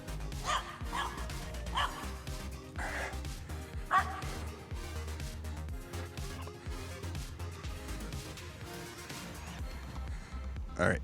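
Several dogs bark and yip in bursts over a steady low rumble of outdoor background noise, with faint sounds of a runner nearby during a jog.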